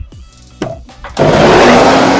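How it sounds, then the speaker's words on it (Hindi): A kitchen blender mixing a shake starts with a couple of short bursts, then roars steadily at full speed, loud and close. "फिर से मिक्सी चला दो।"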